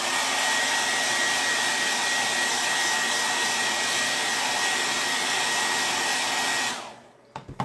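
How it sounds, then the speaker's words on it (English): A hair dryer blows steadily and loudly at close range while drying a painted Easter egg decoration, a continuous broad whoosh that cuts off near the end, leaving a few faint handling clicks. "So I'm gonna dry it one more time, so it's gonna get loud."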